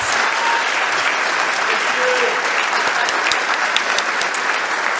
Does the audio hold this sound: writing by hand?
no